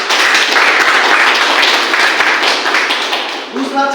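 An audience at a meeting claps loudly for a speaker in dense, steady applause that tapers off near the end as a voice begins.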